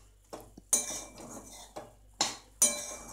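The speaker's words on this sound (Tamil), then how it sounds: "ஸோ நான் இதை நல்லா கிளறிட்டு உங்களுக்கு காமிக்கிறேன்" Metal spoon stirring green peas pulao rice in a pan, a series of sharp clinks and scrapes against the pan in irregular bursts, close and clear.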